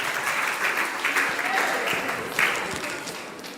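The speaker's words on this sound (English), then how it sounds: "Clap for her" A group at a mentorship session claps together, a brief burst of moderately loud applause with a few sharper swells, tapering off toward the end.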